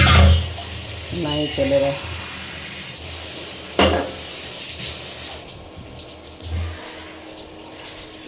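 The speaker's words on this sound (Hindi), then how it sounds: "लग रहा है पानी गंदा, इसको फेंक देते हैं भाई।" Dirty water running and splashing out of a container, a continuous wash of water with a few brief splashes, while someone speaks briefly over it.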